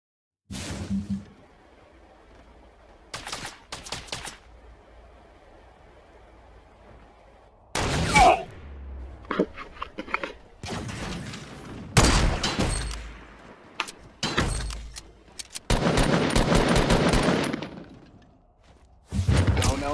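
Gunfire in Fortnite Battle Royale comes in sharp, loud bursts and single shots separated by quiet gaps, with a long sustained volley near the end and thuds and whooshes mixed in.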